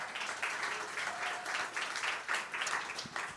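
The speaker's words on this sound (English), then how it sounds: "Now you can applaud." Audience applause at a festival event celebrating a composer's debut album, a steady wash of many hands clapping through the whole stretch with no one speaking over it.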